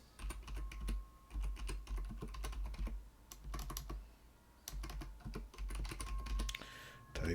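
Keys on a computer keyboard are tapped in quick, irregular bursts with short pauses between runs, close and fairly quiet, with no talk over it.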